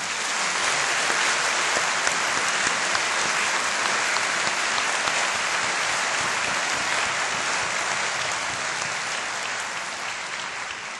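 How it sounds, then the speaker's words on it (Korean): Large audience applauding at the inauguration ceremony of POSTECH's sixth president, a thick continuous roar of clapping sustained for about ten seconds before gradually tapering off at the end. "박수 크게 한번 보내주시기 바랍니다."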